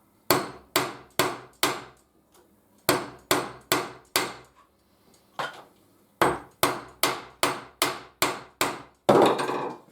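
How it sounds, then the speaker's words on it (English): Sharp, loud hammer blows ring out close by, hammering metal fixings flat on a corrugated roof, in quick bursts of four, then four, then a longer run of seven, with short pauses between. "And then you just hammer them flat."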